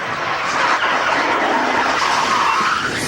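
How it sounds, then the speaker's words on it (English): A NASCAR race car slides and loses grip during qualifying, giving a sustained tire-scrubbing skid with engine roar, loud and continuous for a few seconds. "The car's just sliding, losing grip"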